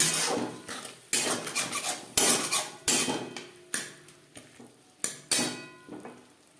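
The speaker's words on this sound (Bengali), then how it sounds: "পেঁয়াজ টমেটোর সাথে মশলা বেশ ভালো করে মিক্স করে দেবে" Onion, tomato and spices stirred in a pan for a small-fish curry, heard as repeated sharp metallic scrapes and knocks of a spoon against the pan at an irregular rhythm, close and loud.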